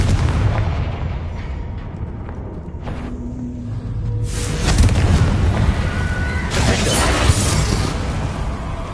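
A Confringo blasting spell from a Harry Potter video game, heard as booming explosive bursts with a broad rumble, repeated across the span against a busy game soundscape.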